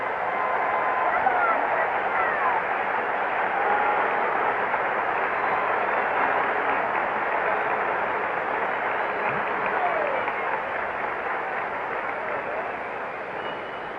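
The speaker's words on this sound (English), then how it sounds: "Listen to the reaction from the crowd as Bob Gibson comes up." Baseball stadium crowd at a World Series game between the Detroit Tigers and St. Louis Cardinals, a steady distant roar of cheering and murmur as the batter comes up, sustained and even throughout.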